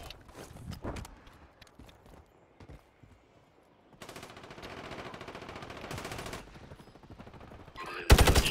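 Video game gunfire: scattered single shots early on, then long bursts of rapid automatic fire, ending in a loud close burst, with sparse background clatter between volleys.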